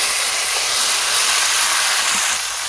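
Chicken hits a pan of fried spice masala, producing a dense, steady sizzle and hiss that holds loud and even with little variation.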